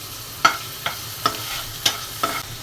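Green chilies fry in hot oil for okra bhaji, a soft background sizzle punctuated by five evenly spaced scraping strokes of a spatula against the pan.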